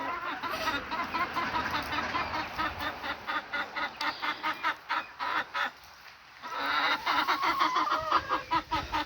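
Several hens cluck and honk in rapid, repeated bursts close by in cold weather, with a brief pause before the chatter resumes.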